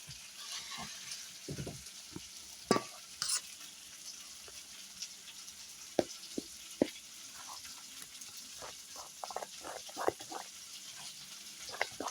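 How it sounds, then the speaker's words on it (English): Zucchini fritter batter of flour, eggs, salt and milk stirred in a bowl, making soft wet sloshing and scraping with frequent light clinks of the utensil against the bowl, close and fairly quiet, with no voices. "So we're just going to stir this up."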